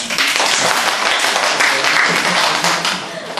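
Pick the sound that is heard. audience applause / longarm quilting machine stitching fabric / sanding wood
audience applause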